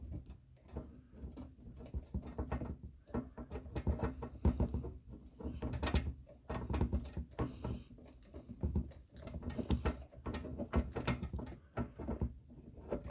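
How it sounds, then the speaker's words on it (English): Small screws are driven into a Hachette Build the Titanic model, making a close, irregular run of light clicks, taps and scratchy turns with brief pauses. "I'm going to get these screwed in and then I'm going to tighten them up after"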